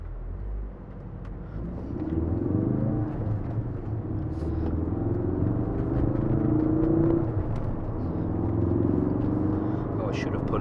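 A Ford Focus RS drives along, its engine a steady low rumble and whir that rises and falls gently with the speed, while someone talks over it.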